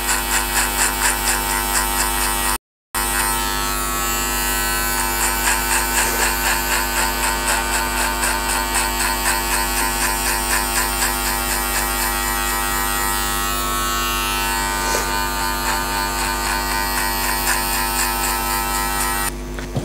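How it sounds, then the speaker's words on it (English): Electric hair clipper fitted with a number 2 metal guard, fully closed, cutting hair for a skin fade, a loud continuous close buzz with slight rhythmic pulsing as it passes, briefly cut off once. "So it's a number 2 metal cluster guard fully closed, and we're setting our fade foundation."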